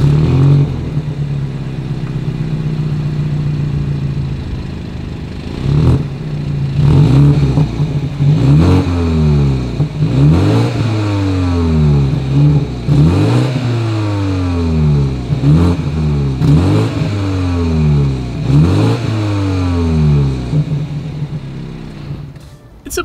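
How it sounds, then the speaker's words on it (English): A 2020 BMW X3 engine idles with a deep dual-exhaust burble, then revs repeatedly in a series of rising, falling pulls, loud and close. "As always, here is that exhaust clip."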